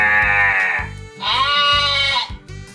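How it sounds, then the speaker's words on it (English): A sheep bleats twice, a loud, close, wavering cry followed after a short pause by a second, higher call. "That's right, it's a sheep."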